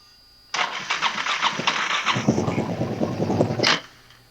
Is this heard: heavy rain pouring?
no